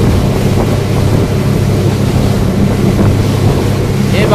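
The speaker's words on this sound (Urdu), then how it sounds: "اسپیڈ لانچر کی اسپیڈ" Loud, continuous rush of a speed launch powering over the open sea, engine hum blended with crashing waves and strong wind noise, unbroken and close.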